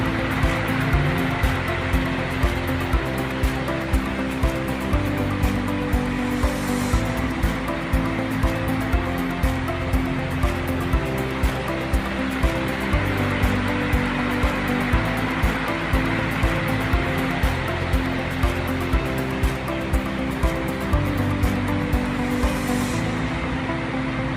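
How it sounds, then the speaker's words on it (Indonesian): Running water from a tap pours continuously as hands are washed in a clinical six-step handwashing routine, a steady loud rushing with no talk. "monggo kita cuci tangan 6 langkah dulu"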